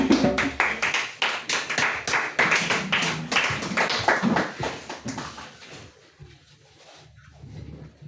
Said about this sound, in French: On acclame le Seigneur Jésus-Christ pour le frère Ézéchiel.